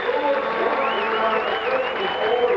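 Stadium crowd cheering at a 1985 CFL football game between the BC Lions and Calgary Stampeders, a broad sustained roar with a whistle rising above it and a commentator talking over the noise.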